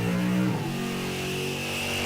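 A Super Stock H automatic Corvette drag car powers down the track, its engine note holding a steady tone that shifts partway through, heard from a distance beneath a wash of broadband noise.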